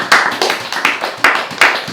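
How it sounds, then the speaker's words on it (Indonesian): Sharp hand claps sound in a quick, uneven series, about a dozen strikes close by, with no talking. "Tepuk tangan lagi dong"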